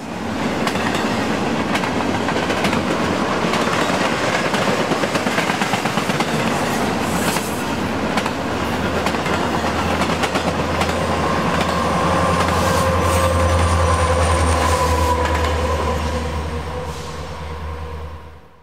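A train rolls steadily past on the busy mountain mainline of the Pittsburgh Line at Cassandra, Pennsylvania, with loud continuous rumble and clickety-clack of wheels that holds for the whole stretch before easing off at the end.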